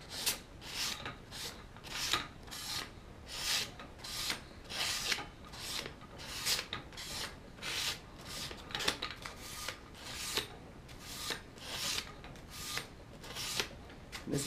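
A straight razor drawn steadily across sandpaper, giving a close, dry rasping scrape in regular repeated strokes of even rhythm with no voices.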